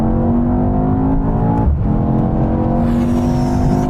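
A BMW M5 CS, Mercedes-AMG E63 S, Porsche Panamera Turbo S and Audi RS6 run a rolling race from 50 mph in sport settings locked in third gear, a loud, sustained engine drone with steady harmonic tone, close and unbroken.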